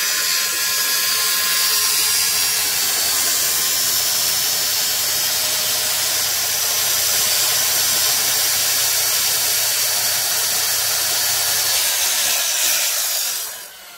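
A saw cuts steadily through the panel of a motorhome cabin box, giving a loud, close, continuous rasping whir for about thirteen seconds before it stops abruptly.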